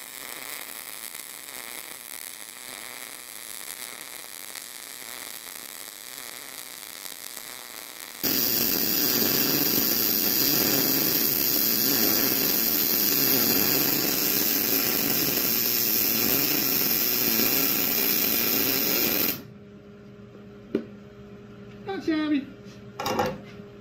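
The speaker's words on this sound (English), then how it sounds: "But I'll try to weld up a decent one for you here." A MIG welder lays a bead on thick steel plate, a loud steady crackling hiss running for about ten seconds before cutting off abruptly, followed by quiet workshop sounds and a few clicks.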